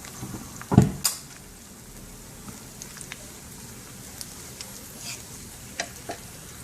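Cashews and onions frying in a pan for squid biriyani, a soft continuous sizzle with a sharp scrape of stirring early on and scattered light clicks and pops afterward.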